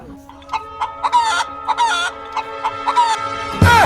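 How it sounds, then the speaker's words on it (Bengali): A domestic hen clucks in a series of close, loud, rising calls with a brief crowing-like cry, followed by a sharp noise at the end, with no speech. "মুরগির নাম পোঙা।"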